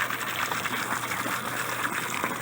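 Water pouring and gushing into fish breeding tanks during a water exchange, a steady, close rushing flow with faint trickling texture and no voices.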